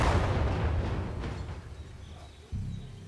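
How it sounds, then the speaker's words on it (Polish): German tank blown up in the World War II game Partisans 1941, a heavy rumbling explosion that slowly decays over a couple of seconds before a second low boom hits near the end. "To wybuch."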